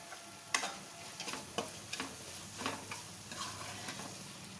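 Kasuri methi stirred into a hot tadka for chana dal, a soft continuous sizzle broken by a series of spoon clinks and scrapes against the pan.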